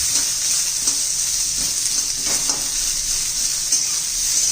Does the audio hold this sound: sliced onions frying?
yes